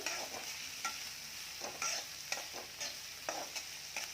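Onions fry in a pan for Andhra egg pulusu curry, a steady close sizzle punctuated by regular scraping stirs about every half second, with no voices.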